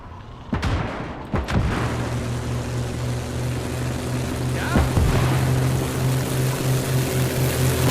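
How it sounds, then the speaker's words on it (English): A propeller scout plane drones steadily overhead in a WWII Eastern Front battlefield game, its engine hum filling the scene after a couple of sharp booms near the start. "Let's bring over another scout plane."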